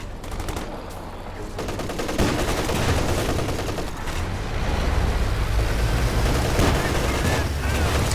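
Dense video-game battle audio of gunfire, including MG34 machine guns, with continuous rattling bursts and booming impacts layered loudly throughout, and shouted voices heard amid the firing.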